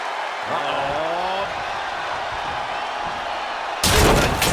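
A loud crash bursts out as a wrestler is slammed through a table during a WWE championship match between Big E and Seth Rollins at TLC 2021, a sudden heavy impact with crowd roar, following a commentator's speech.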